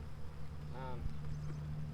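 Honey bees swarm around a swarm trap outdoors in light rain, a steady low buzzing hum running throughout, with a brief voice-like tone rising midway.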